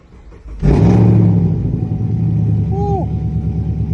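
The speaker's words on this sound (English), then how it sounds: "let's start her up" A Chevy Camaro engine cranks and catches with a sudden loud burst, then settles into a deep, steady idle rumble, with a brief voice heard near the end.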